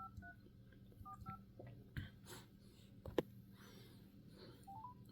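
A telephone keypad beeps with short dialing tones, a few quick presses early on and a couple more near the end, quiet against faint background clicks and handling noise.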